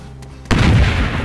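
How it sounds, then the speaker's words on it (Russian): A sudden loud boom from an explosion in DayZ Standalone erupts after a quiet moment, followed by a sustained rumbling roar that slowly fades. "Взрыв."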